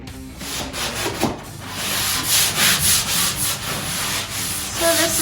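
Interior walls are sanded by hand to strip leftover wallpaper glue, giving a close, continuous scratchy rubbing in repeated strokes with no speech.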